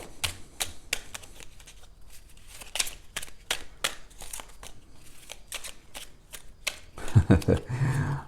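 Tarot cards are shuffled by hand up close in a rapid series of crisp riffling bursts, followed by a brief rustle and handling noise near the end; a voice is faintly present.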